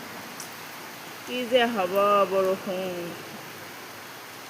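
Steady rain falling as a constant soft hiss throughout, with someone speaking briefly over it in the middle.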